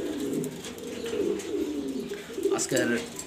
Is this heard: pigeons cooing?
yes